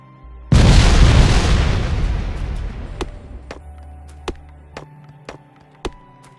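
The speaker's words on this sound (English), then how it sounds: "We'll use some grenades to clear out the trees that are over here." A loud grenade blast in the video game Factorio, clearing trees, erupts suddenly and rumbles away over a few seconds. Several sharp, smaller pops and cracks follow at intervals as debris and trees break apart.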